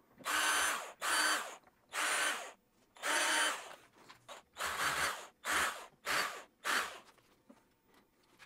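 A power drill drives small wood screws into a homemade whetstone holder, eight close, loud whirring bursts of about half a second each separated by brief pauses, with no talk.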